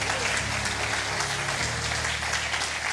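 Church congregation at a family service applauds, a dense continuous clapping from many hands filling the room, loud and sustained with a low music drone underneath.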